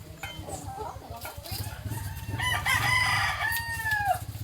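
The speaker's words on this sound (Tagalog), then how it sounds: "Manok." A rooster crows and a chicken clucks close by, the calls rising over a busy background of chatter and household noise, with a longer drawn-out crow near the end.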